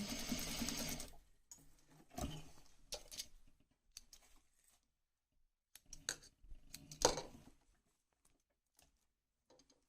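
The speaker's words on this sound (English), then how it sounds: "We have to start here and sew." A sewing machine stitches a dress bodice in several short bursts of rapid mechanical whirring and clatter, separated by quiet pauses, close and fairly faint with no talking.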